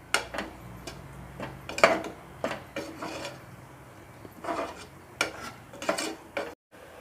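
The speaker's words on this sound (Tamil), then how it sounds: "இப்போ தக்காளி போட்டுடலாம். இதையும் நல்லா வதக்கிடுங்க." A spatula scrapes and clinks in a pan as tomatoes are sautéed with ginger garlic for a country chicken curry, in a close, irregular string of strokes with quiet gaps between them.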